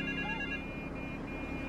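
A telephone rings in Grand Theft Auto III, a short electronic trilling bell heard at moderate level over low game ambience, with no voices.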